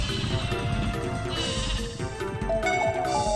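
Sheep bleating in the N64 game Paper Mario, repeated wavering cartoon bleats layered over game music and sound effects, fairly loud and continuous.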